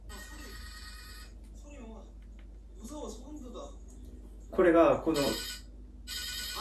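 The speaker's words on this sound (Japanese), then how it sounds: "もうこのなんか電話のこのベルが鳴ってるこの音が本当にもう怖いと" A phone ringtone rings during a late-night livestream from a hotel room, sounding in repeated bursts with a louder passage near the end, while someone talks over it.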